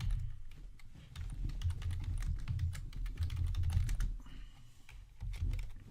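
Computer keyboard typing, a rapid run of crisp key clicks at close range carrying on steadily for several seconds over a low background hum, with no talking.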